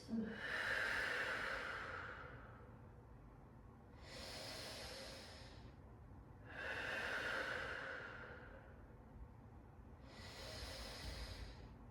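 Slow, deep breathing during a gentle Pilates session, four long drawn breaths with airy hissing exhales alternating with quieter inhales, close and soft with no talking.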